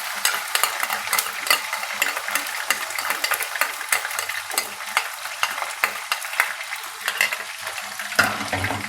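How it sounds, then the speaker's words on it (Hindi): Ginger and garlic fry with onions in a hot pan, giving a loud, steady sizzle close by. A spoon scrapes and stirs in quick, repeated strokes, and no one speaks. "अदरक लहसुन डाल दिया है। इसमें थोड़ा सा फ्राई होगा ये।"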